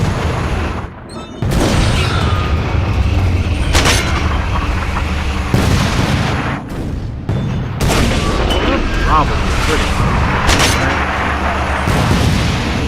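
Bombing explosions in an online war video game: loud, heavy booms and bursts of gunfire come repeatedly every couple of seconds, with short near-silent gaps between the blasts.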